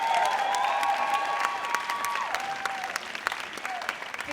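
An audience applauds and cheers at a fundraising party, dense steady clapping with voices and whoops rising over it, loud and continuous throughout.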